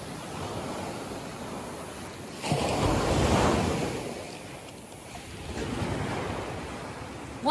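Waves surge and wash onto a shore in rolling swells, with wind rumbling across the microphone; no voices.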